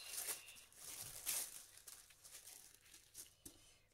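Quiet crinkling and rustling of packaging as a parcel is opened, soft irregular crackles with a couple of brighter crinkles, close and alone.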